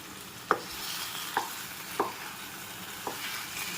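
Chicken pieces sizzle in green masala over a low flame in a dhaba-style dish, with four distinct scraping stirs of a spoon against the pan over the steady frying hiss.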